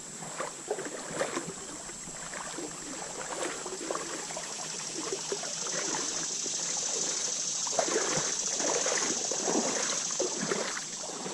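Creek water flowing in woodland, a soft continuous trickle and babble that swells slightly later, moderately near, with a steady high insect-like hiss above it and no talk.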